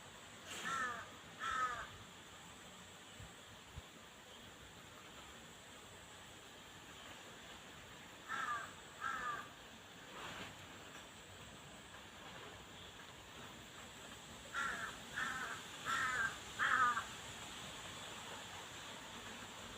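Crows caw behind a house in short bursts of two or three harsh calls, coming and going at a distance over a faint, steady background hiss.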